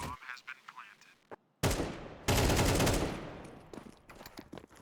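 Counter-Strike gunfire on Dust2 during an esports match, sharp loud bursts of rapid shots with short gaps, with a commentator talking over the action.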